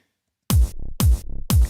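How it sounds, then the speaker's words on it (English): Three punchy electronic kick drums, each followed by a rhythmic pulsing low tone that swells back in after the hit, giving a pumping sidechain-compression-like ducking feel; dry and close, no voices. "we have sort of a type of sidechain compression effect"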